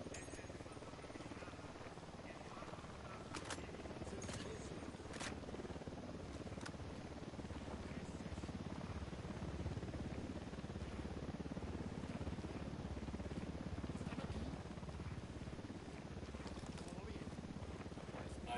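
Helicopter approaching in the tactical shooter Ghost Recon Wildlands, a steady low rotor drone that holds at an even level throughout with no talk over it.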